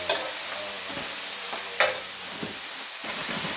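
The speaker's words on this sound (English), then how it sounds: "Okay, so I'm stirring these vegetables into this cabbage." Vegetables are stirred into cabbage frying in a pan, with a constant loud sizzle broken by a few scraping knocks of the utensil against the pan.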